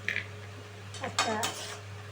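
A metal spoon clinks and scrapes against a pan while chicken kasha with spices is stirred, a few sharp knocks spread over steady low background hum, fairly faint and close, with no talk.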